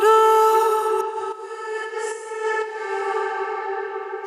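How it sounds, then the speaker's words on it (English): A melodic house synth plays sustained, bright harmonic tones, with a heavy sidechain-compressed reverb that swells in the gaps and leaves a washy, echoing tail. It sounds loud and continuous, with no voices. "I did some sidechain compression from the actual main audio to the reverb, so you only get the reverb in the pauses kind of thing"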